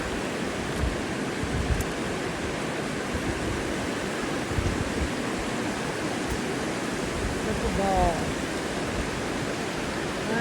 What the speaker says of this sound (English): I just kind of wanted to film that waterfall from this side